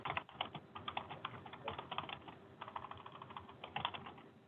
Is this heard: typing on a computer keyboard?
yes